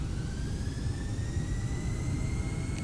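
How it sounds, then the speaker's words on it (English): Airbus A319 jet engines spooling at takeoff thrust in a flight simulator, a steady, loud low roar with a thin whine slowly rising above it, unbroken throughout. "Oh, these engines sound nice."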